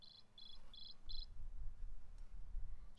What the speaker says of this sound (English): he chirped the most beautiful sound that she had ever heard